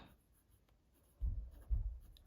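A Schon DSGN Monoc medium fountain pen nib writing on paper, quiet scratchy strokes that swell into two louder, slightly rumbling passes near the end, close and alone.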